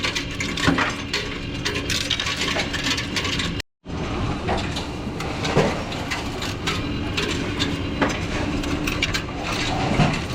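Coins rattle and clatter continuously through a counting machine, a dense metallic churning with a brief pause before the jingling resumes.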